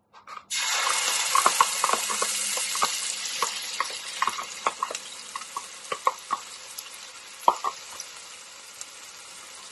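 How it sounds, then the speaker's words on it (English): Rice with Haitian spice frying in a pan until golden, a steady close sizzle with scattered sharp crackles and spatula scrapes, no voices. "I'm gonna fry it to make it golden"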